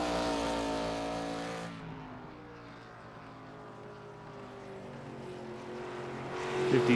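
ARCA race cars roar around the track in a racing video game, a loud steady engine drone that dips briefly then swells again as the cars run down the backstretch, no talking.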